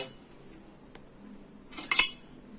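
Spoons and plates clatter as they are handled and put away indoors: light metallic clinks early on, then a louder burst of cutlery and dish rattling near the end, with no talking.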